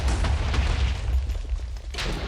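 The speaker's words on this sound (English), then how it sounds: "Explosions for days!" Continuous rumbling explosions in modded Minecraft, deep booming blasts overlapping one another at steady loudness throughout.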